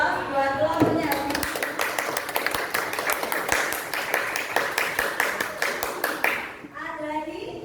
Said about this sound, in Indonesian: dengan aplaus buat lagunya